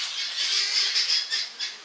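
Birds squawking loudly at a zoo where a snake has set them off, a dense continuous chorus of shrill cries close by, with no talk.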